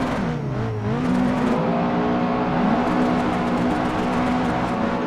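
In the Assetto Corsa racing game, a drifting car's engine revs and holds a steady, loud whine that rises and dips as the throttle is worked through the slide, with no talking over it.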